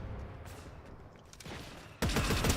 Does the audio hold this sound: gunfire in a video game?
yes